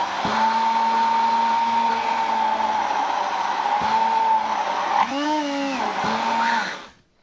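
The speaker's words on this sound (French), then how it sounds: "Là, je vais rajouter mon huile de tournesol. Hop. Et on mixe une deuxième fois." An electric blender whirs steadily, mixing chicken kebab marinade with added sunflower oil, a loud continuous motor hum with pitch dips as the load shifts, then winding down and stopping at the end.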